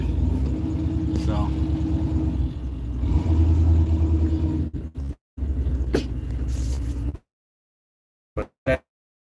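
A truck with a newly installed engine rumbles loudly and steadily with deep low-end drone, cutting out briefly midway before resuming, with a voice speaking over it and then near silence apart from short bursts at the end.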